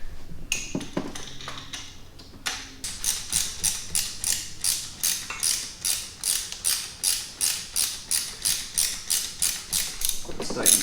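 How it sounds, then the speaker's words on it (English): A hand ratchet tightens a bolt on the coolant temperature sensor of a C5 Corvette, giving a steady run of evenly spaced clicking strokes, close and clear, after a few brief metallic knocks. "Let's tighten the top bolt down as well."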